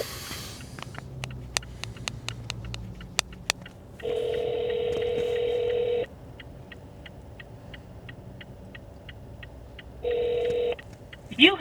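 Telephone dialing on a mobile call, a rapid string of keypad beeps followed by long steady tones and short pauses, repeating later, close and clear with no talking.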